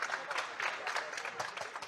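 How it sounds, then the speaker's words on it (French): A team of workers in a warehouse applauds together, a steady patter of many hands clapping at close to moderate distance, with faint voices mixed in. "vous pouvez vous applaudir bien fort"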